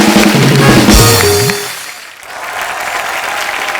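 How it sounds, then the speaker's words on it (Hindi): Studio audience at a comedy show cheering for two children, applause rising over a brief voice and musical sting, then continuing more softly as a steady clapping wash. "ये दोनों बच्चों के लिए जोरदार तालियां हो जाएं एक बार।"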